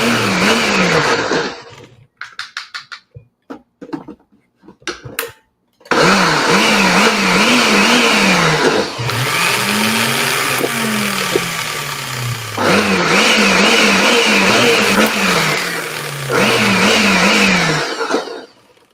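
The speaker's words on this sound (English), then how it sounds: "So I just have this in a little individual cup blender." A small individual cup blender whirs loudly in bursts, blending a cinnamon dog-treat mixture, its motor pitch rising and falling as it chops, with short pauses and sputters between runs.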